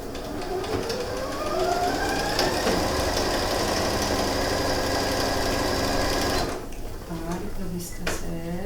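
A sewing machine stitches fabric for a gathered patchwork cap, its motor whirring close and steady as it ramps up in pitch, running for several seconds before cutting off abruptly into a few light clicks.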